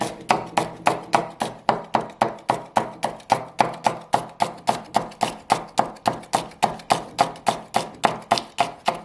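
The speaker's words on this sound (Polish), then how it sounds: "Taką cebulkę sobie przekrawamy na pół i drobniutko takie piórka sobie tym razem posiekamy" A knife chops an onion into fine slices on a board, a steady run of about thirty crisp, evenly spaced taps that comes close and clear with no talk.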